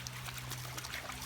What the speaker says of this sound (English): I'm gonna have to get out of this little creek.